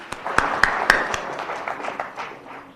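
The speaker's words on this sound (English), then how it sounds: "Can we give another round of applause to our Honorable Governor" An audience applauds the Governor at an education summit in Omaheke: a few sharp claps lead into scattered clapping that thins and fades over a few seconds.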